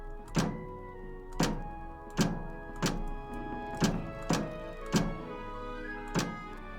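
A video game floor switch sound effect: a series of heavy, dull thunks repeating at a steady pace, each trailing off with a faint metallic ring.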